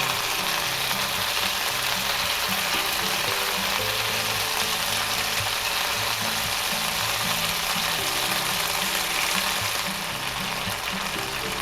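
Shrimp, salmon fillet or flat iron steak sizzling steadily in a very hot pan, a continuous loud frying hiss with a low hum of burner or kitchen machinery underneath, no talking.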